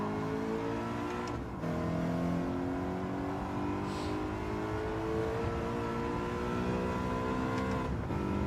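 A race car engine in a racing video game climbs steadily through the revs under acceleration, shifting once early, then holding a loud, continuous, close whine with rising harmonics to the end.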